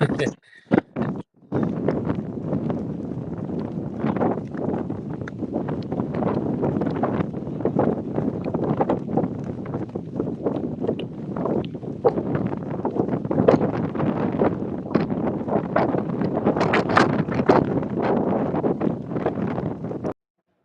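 Strong, gusty desert wind buffets the microphone continuously for the whole stretch at a motorbike rally stage start, with a rough, roaring texture and a few brief thumps at the start.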